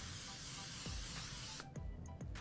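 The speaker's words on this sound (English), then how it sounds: "So, we're gonna spray this down" Cooking spray hisses from an aerosol can into a springform pan for a carrot cake cheesecake, a steady close, bright spray for over a second, then a few short bursts.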